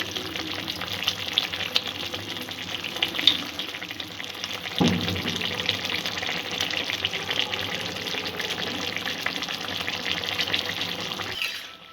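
Water running and splashing steadily into a cooking pan to boil rohu fish, a continuous close gushing hiss with a brief louder splash near the middle, then cutting off at the end.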